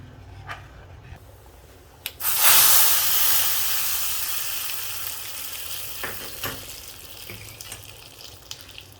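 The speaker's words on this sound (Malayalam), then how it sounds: "നമുക്കിനി കടുക് വറുക്കാം." Mustard seeds hit hot oil with a sudden loud hiss that rises and slowly fades into a steady sizzle and scattered pops, close by, for a jackfruit seed, mango and dry shrimp curry, after a couple of sharp knocks.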